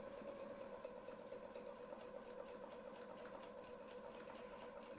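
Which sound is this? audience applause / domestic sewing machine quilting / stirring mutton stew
domestic sewing machine quilting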